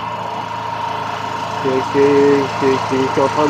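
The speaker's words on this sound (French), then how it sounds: "C'est mon groupe électrogène" A petrol generator runs steadily beside a camper van, charging a lithium battery. Its constant mid-pitched hum and drone carry on under someone speaking French.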